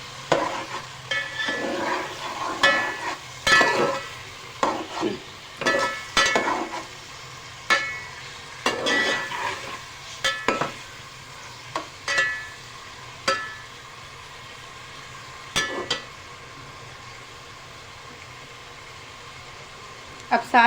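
Garlic ginger paste and mixed vegetables sizzle in a pan for vegetable pulao, a soft steady frying hiss broken by repeated scraping stirs and clinks of a spoon on metal, with a voice talking at times.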